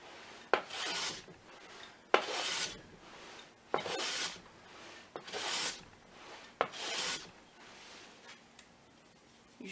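A hand plane smooths a wooden board in five or six rhythmic strokes, each a close, rasping swish followed by a short pause, quiet and without talk.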